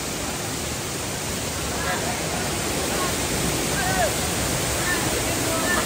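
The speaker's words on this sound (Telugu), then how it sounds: "ఇదే మెయిన్ వాటర్ ఫాల్ అండి." The main fall of Sariya (Bahubali) waterfall near Visakhapatnam roars, filling the scene with dense, steady rushing water noise, loud and unbroken, with faint voices beneath it.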